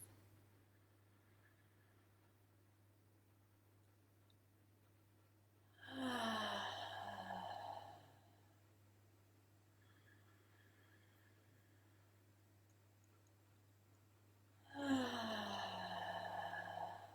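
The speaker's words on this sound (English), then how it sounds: "Breathing in through your nose" Slow deep breathing, drawn in through the nose and let out through the mouth, comes as two long, soft airy breaths several seconds apart over a quiet steady hum.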